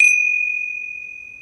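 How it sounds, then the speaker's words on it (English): One gong stroke opens a Hindu puja to Shiva and Parvati, a single bright, pure ringing tone that starts crisply and fades slowly while it sustains alone. "I'm going to open and close the puja with a gong."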